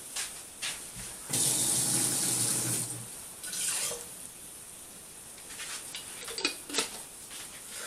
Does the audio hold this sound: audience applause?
no